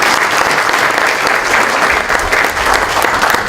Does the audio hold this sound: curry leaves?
no